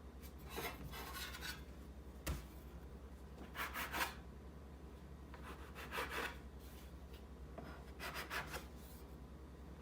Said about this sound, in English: there's a trick where you can roll it on the counter too, and just like work it on the counter, and it'll make it into a round ball